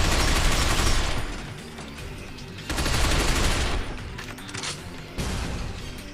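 Sustained automatic gunfire from a firefight in the third-person shooter Binary Domain, loud, dense bursts of rapid shots in three waves with brief dips between them.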